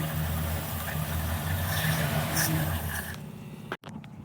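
A small engine fed by a carburetor and fuel pump runs steadily with a low, even rumble for about three seconds, then drops off abruptly and sputters briefly near the end.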